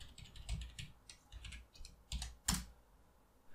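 Fast typing on a computer keyboard while writing code, a close run of clicky keystrokes in quick bursts, ending with one louder key strike.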